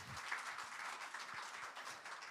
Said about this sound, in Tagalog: Isa pa mong palakpak kay Lord.